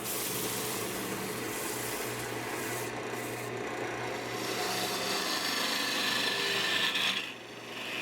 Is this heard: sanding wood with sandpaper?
yes